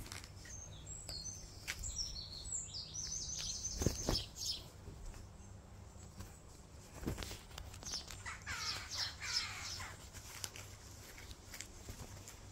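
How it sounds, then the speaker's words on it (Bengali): Birds chirping among trees outdoors, a few faint high tweets and short trills in the distance over a soft ambient background with scattered light clatter. "সারাক্ষণ বাইরে বেরোলেই এখানে পাখি কিচিরমিচির করেই চলেছে"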